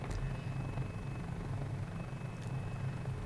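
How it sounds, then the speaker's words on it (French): A Mini 500 helicopter flies in Microsoft Flight Simulator, giving a steady, close engine and rotor drone with a low throbbing pulse that runs unbroken through the whole stretch, with no voices. "Alors, on va tester l'hélicoptère."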